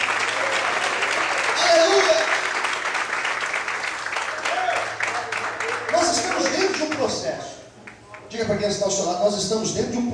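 Church congregation applauding during a Portuguese-language worship service, broad steady clapping filling the room for several seconds, easing briefly before swelling again, with voices audible underneath.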